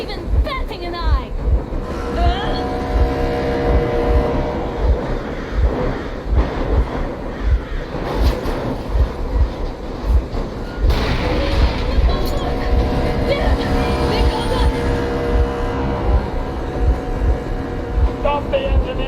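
In the Metro video game, a vehicle engine runs as a heavy rumbling, rattling train-like drone that carries on throughout, with a speaking voice heard over it at times.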